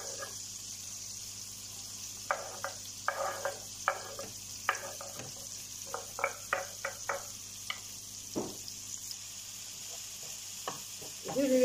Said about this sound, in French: Le beurre est bien chaud, il a fondu, et maintenant je rajoute les oignons rouges.